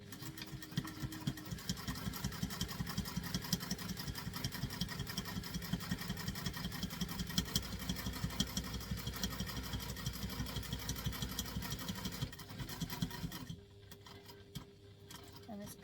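A sewing machine stitches in a fast, steady run at close range for most of the stretch, then stops and leaves quieter room sound at the end.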